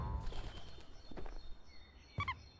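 Pigeon wings flapping in the video game Small Saga, a few soft fluttering bursts followed by a brief bright chirpy flourish near the end, fairly quiet and close, with no talk.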